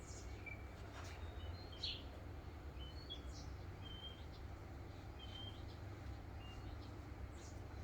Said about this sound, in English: Birds are happily coming to our bird feeders.